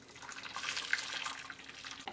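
Hot, freshly boiled coconut milk jelly is poured slowly into a glass dish, making a close, continuous liquid splashing and trickling that ends with a soft tap.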